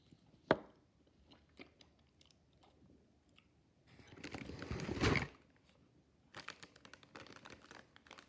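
Someone bites and chews a Hershey cookies and cream chocolate Easter bunny, a sharp snap followed by close, crunchy bursts of mastication with quiet pauses between, no talking.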